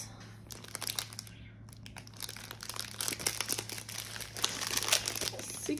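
Plastic packaging of a diamond painting blind box crinkling and tearing open in a few close, quiet bursts of rustling.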